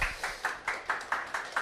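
Rhythmic clapping from a seminar audience at an accounting exam prep academy information session, applauding the instructors: about eight evenly spaced claps, moderately faint, with no speech.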